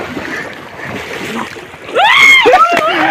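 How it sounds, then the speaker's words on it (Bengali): People bathe in a river and splash into the water, quiet lapping giving way to a burst of louder splashing near the end, with voices and shouts over it. "শুরু হয়ে গেছে আমাদের জলে ডুবা।"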